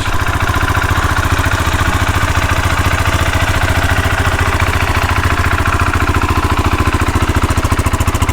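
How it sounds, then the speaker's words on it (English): A 2020 Husqvarna 701 SM motorcycle engine with stock exhaust idles steadily with a muted, rapid mechanical pulse, loud and close throughout with no talking. "The stock exhaust definitely just tames the sound down so much."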